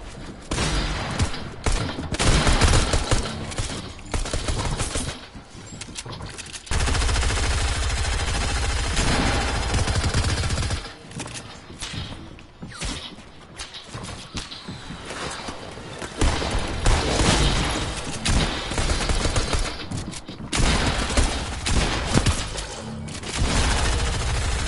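Fortnite gunfire aimed at the player comes in rapid bursts, dense volleys and long automatic strings broken by short pauses, loud and close throughout.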